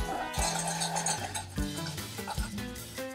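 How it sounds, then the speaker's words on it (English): Crab apple and pear sizzling in a hot pan, with a steady crackle, scraping stirs and occasional clinks of utensil against pan. "throwing that all in, you can hear it sizzle away"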